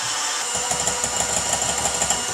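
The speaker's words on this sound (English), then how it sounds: "Once you start mixing the egg whites, you want to keep going." An electric mixer whipping egg whites in a bowl, a steady high-pitched motor whir with slight rhythmic fluctuations as the beaters turn, close and continuous with no talking.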